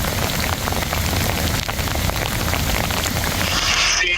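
Heavy rain pours steadily across Kerrville, Texas, a dense, continuous hiss of drops hitting surfaces close by, loud and unbroken throughout with no voices.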